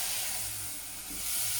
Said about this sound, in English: This will sizzle again